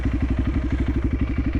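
A motorcycle ridden through a temple complex in Cambodia, its engine pulsing in a steady, rapid low chug at close range with a rough, clattering edge, no voices present.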